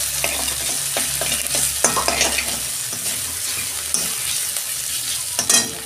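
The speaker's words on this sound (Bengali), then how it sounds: "আলুটাকে একটু ভেজে নেবো মশলার সঙ্গে।" Potatoes fry with spices in a pan for ghugni, a close, busy sizzle overlaid with repeated scraping and clattering stirs and occasional louder clinks near the end.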